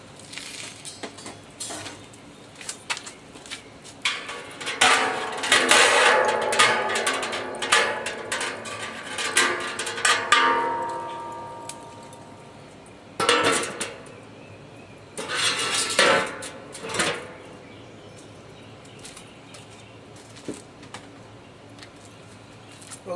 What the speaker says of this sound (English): I need to take out the other rack before it gets too hot